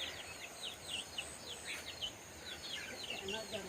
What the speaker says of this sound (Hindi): यहाँ पे मुर्गी फार्म देखिए, छोटे छोटे चूजे हैं काफ़ी ज़्यादा।